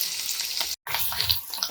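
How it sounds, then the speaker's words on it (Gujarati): Green chillies sizzle and crackle in a hot oil tempering in a pan, stirred steadily for a fasting idli recipe, loud and close with a brief break partway through. "વઘારને આપણે થોડું ચલાવી લઈશું."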